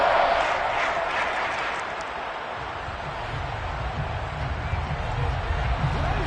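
A roaring stadium crowd at a Buffalo versus Detroit football game, swelling steadily ahead of a big third down, with a commentator talking over the broad, constant noise.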